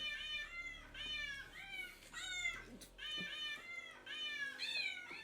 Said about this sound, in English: stand by the feeding bowl and hold the food, and she'll go meow!